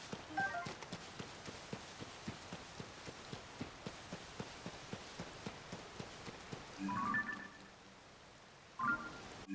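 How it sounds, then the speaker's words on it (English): Steady rainfall patters across the ground in Zelda: Tears of the Kingdom while wet footsteps slap along in a quick, even rhythm, with a couple of brief chiming game effects. "All the sound of the rain. Wet footsteps."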